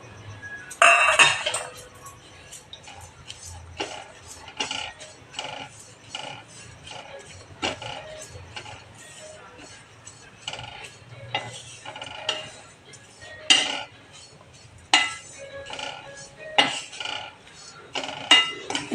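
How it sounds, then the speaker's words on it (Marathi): Coconut is roasted in a pan over a low flame and stirred repeatedly, giving irregular close metallic scrapes and clinks of a spoon against the pan. "आपण खोबरं भाजणार आहोत खोबरं मंद आचेवर भाजून घ्यायचं"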